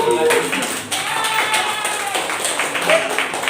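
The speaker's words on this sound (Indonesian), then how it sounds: "Tepuk tangan buat kalian." Students in a classroom group-learning session clap their hands for classmates, a moderate, uneven spatter of claps mixed with chatter and voices throughout.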